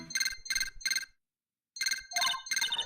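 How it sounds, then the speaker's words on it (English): A telephone rings in the Phoenix Wright: Justice For All video game, with three bright electronic trills, a short silent gap, then three more, loud and clear with no talk over them. "Mr. Attorney, you're not answering the phone."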